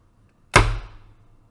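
A spring-loaded Dollar Tree dart shooter launches a suction dart with a single sharp, loud snap up close and a short ringing decay, with no talking.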